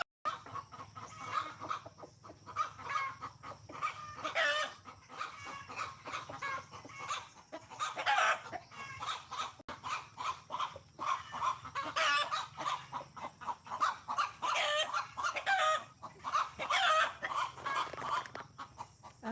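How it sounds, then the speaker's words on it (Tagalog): A hen that has just laid an egg clucks and cackles repeatedly in a loud, agitated run of calls, with other farmyard chickens in the background. "Ang ingay ng manok guys, nangitlog kasi."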